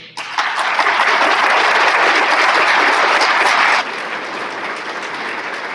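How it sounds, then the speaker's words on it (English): Audience applause at a March Disability Awareness Month kickoff event, a loud dense burst of many people clapping that runs steadily for several seconds, then drops off abruptly to a quieter room murmur. "I'd like for you guys to give those guys a round of applause"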